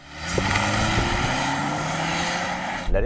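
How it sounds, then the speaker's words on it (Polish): Volvo XC90 engine roaring under full-throttle launch from a brake-boosted standing start, a loud steady drone with rising tones close by, no talk, ending abruptly near the close. "Silnik jest głośny. Brzmi szybko."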